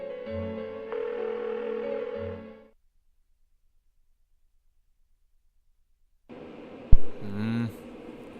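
A telephone rings unanswered in the video game Persona 4. Two separate tonal ring bursts sound at moderate volume with a long stretch of silence between them.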